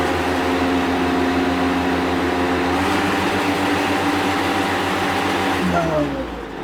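A Kubota LX-351 compact tractor runs with its 540E PTO engaged and the mower blades spinning, a loud, steady, close mechanical drone that winds down in pitch near the end.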